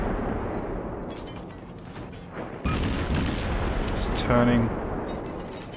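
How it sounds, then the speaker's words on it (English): Battleship guns fire high explosive shells at a destroyer in the World of Warships video game, heavy booming blasts with one big boom midway over a constant rumbling battle bed, while a player speaks briefly. "I'm gonna pummel him with as much high explosives as I can"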